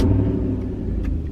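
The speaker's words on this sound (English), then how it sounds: "I am going to brake on and I'm going to start the truck." A truck's engine rumbles loudly and steadily from close by, with a deep low drone and a slight rise in revs just after it catches. No one speaks.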